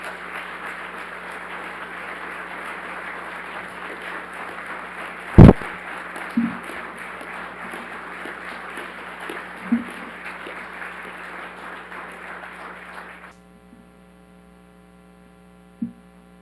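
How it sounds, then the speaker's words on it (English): Audience applause at a conference presentation, a steady wash of clapping for about thirteen seconds over a constant mains hum, with a few sharp knocks, then fading out to near silence. "Let's start with a round of applause for"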